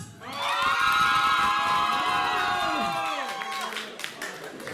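Wedding guests cheer for the girls' team in a party contest, a loud sustained chorus of shrieking, shouting voices that rises quickly, holds for several seconds, then breaks into scattered claps and chatter.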